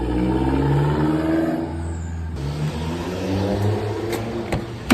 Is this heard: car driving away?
yes